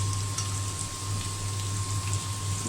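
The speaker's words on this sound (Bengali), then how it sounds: "আমি এখানে ভাজি বসিয়ে দেব, চাল কুমড়া ভাজি।" Ash gourd frying in a pan with onion and green chili, a continuous close crackling sizzle with scattered pops and a steady low hum underneath.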